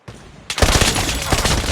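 Automatic weapon fire in Call of Duty Mobile during a ranked match, a short crack then a loud continuous burst of rapid shots close up.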